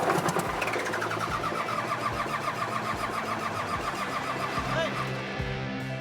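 A diesel boat engine cranking repeatedly without catching on its fourth start attempt, a loud rhythmic churning of starter and engine that never settles into a run, with a voice faintly underneath.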